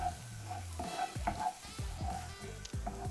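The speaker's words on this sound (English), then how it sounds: "we're going to add the onion to the frying pan. We're going to cook the onions." Onions frying in a pan while being stirred, a steady soft sizzle broken by repeated scraping knocks of a utensil against the pan.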